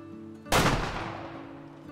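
A lever-action rifle fires once in the hunting game Way of the Hunter, a single loud, close crack that rings out into a long fading tail over a quiet outdoor ambience.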